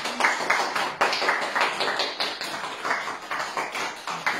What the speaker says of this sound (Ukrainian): Оплески ваші.